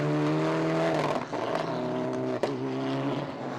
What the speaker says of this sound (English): Box's Evo 9 suffers electrical gremlins and things go dark.